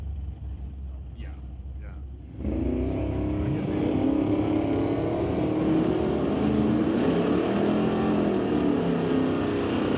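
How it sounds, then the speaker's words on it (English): Chevelle and a Nova Wagon launching off the line at an ET series drag race, a low rumble that jumps to a loud, sustained engine roar at about two and a half seconds and holds as they run down the track, with commentator talk over it. "Chevelle versus Nova Wagon running down track."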